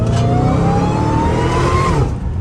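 Dodge Hellcat Redeye pulling hard in second gear with its valved mufflers closed, a loud, close engine note rising steadily in pitch before easing off near the end.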